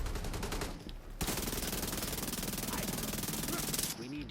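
Sustained SMG automatic fire in the game The Division 2, rapid evenly spaced shots in long loud bursts with a short pause, close and dominant with no talking.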